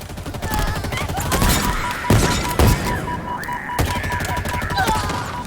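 Sustained gunfire in Halo Infinite's campaign, dense fusillades of shots with sharp bursts near the middle, loud and close over a steady battle din.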